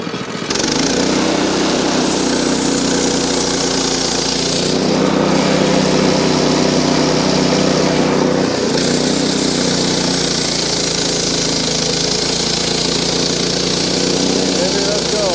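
A Frontier OS18 sawmill cuts a slab from a log, its engine droning loudly and steadily throughout with brief shifts as the cut progresses, and a voice speaking briefly over it.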